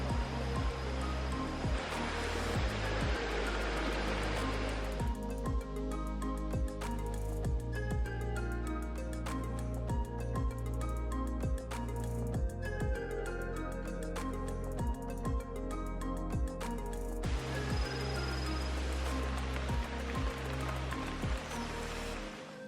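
A small waterfall in the Balinese jungle near Ubud, reached by a hike, rushes in a steady, unbroken wash of water noise throughout, partly overlaid by tonal music.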